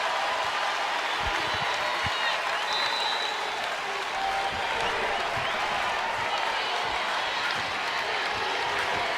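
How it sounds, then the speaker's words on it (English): A basketball arena crowd roars and cheers at Thompson Bowling Arena in Knoxville during a Tennessee versus Stanford game, a steady, loud wash of noise with no letup. "And now that has awakened the crowd as well here at Thompson Bowling Arena."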